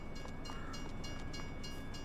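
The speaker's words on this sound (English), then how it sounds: "show the trains stopping the cars." Trains passing a railway crossing in the Farming Simulator 22 video game, a steady low rumble of rolling stock with rhythmic clicks and a thin tonal whine, moderately faint and with no talk.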